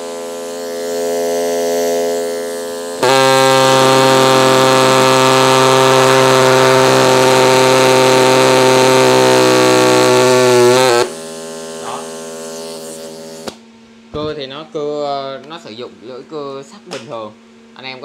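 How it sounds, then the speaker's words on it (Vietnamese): A secondhand air-powered saw that leaks air at its base runs with a loud, steady high-pitched buzz for several seconds, preceded by a softer hiss and followed by someone speaking. "Còn cưa thì nó cưa cũng nhạy lắm"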